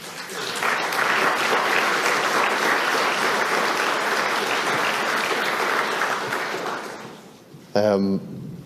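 Audience applause for senators invited onto the stage at a formal session, a dense, even clapping that swells quickly, holds steady for several seconds, then fades out, followed by a short burst of a single voice.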